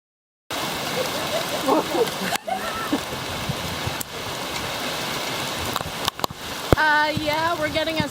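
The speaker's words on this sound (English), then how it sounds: "Yes, this is hail." Hail falls outside in a dense, steady rattle and patter that continues throughout, with brief clatters and a voice speaking near the end.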